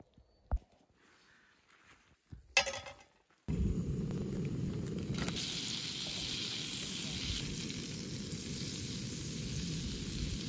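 Butter sizzling in a frying pan outdoors, ready for freshly caught wild trout, starts after a few quiet rustles and knocks, then a steady, fairly loud crackling hiss that runs unbroken to the end.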